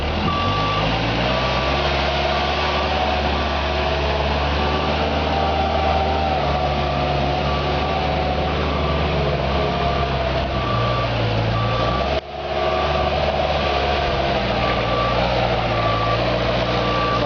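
A truck-mounted Moffett forklift runs its engine at a steady, loud drone while reversing beeps repeat in an even rhythm throughout, with a brief dip midway.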